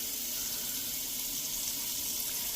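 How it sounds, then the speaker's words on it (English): Tap water runs steadily into a pot, filling it with turkey meat already inside in a kitchen, a constant close hiss and splash with no talking. "let's fill this with water."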